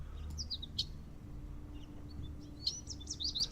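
Video game birds chirp in bursts of quick tweets, a few early calls and a denser cluster near the end, over a low steady hum with no music or talk.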